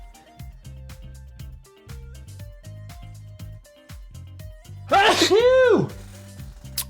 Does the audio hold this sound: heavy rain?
no